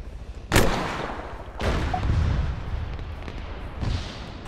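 Gunfire in the military shooter Arma 3 during a King of the Hill match: a few loud, booming shots or blasts with heavy low rumble, spaced about a second apart, followed by lingering reverberant tails and a quieter distant report.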